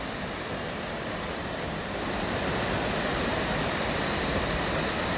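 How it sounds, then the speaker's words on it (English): Steady roaring rush of water from the many cascades at Algar Waterfalls, loud and continuous at close range, a broad even wash of white noise that swells slightly partway through, with no voices. "Lots and lots of waterfalls here."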